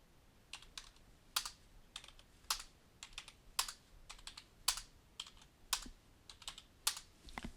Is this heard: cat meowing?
no